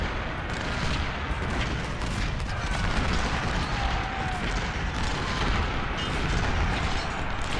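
Howitzer artillery, including 24-pound guns, firing in a strategy battle game: a continuous, dense roar of overlapping booms and rumbling blasts, loud and unbroken throughout.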